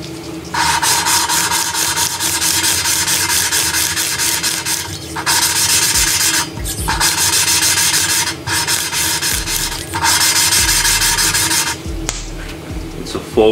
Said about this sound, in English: When you lap the valve in, the valve should have a full seat all the way around.